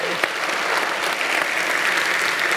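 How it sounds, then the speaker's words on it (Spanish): An audience at a business summit breaks into applause, brisk dense clapping heard up close and continuing unbroken, with faint voices mixed in. "Un aplauso."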